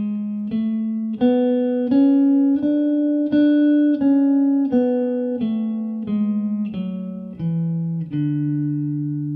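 Guitar plays a D Lydian scale note by note, about fifteen clear picked notes in an even rhythm, first rising and then descending, loud and close.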